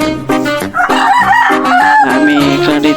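Rooster crowing loudly and close by in an open-air backyard breeding pen, one long harmonic cock-a-doodle-doo that fills the whole moment and stands alone without talk.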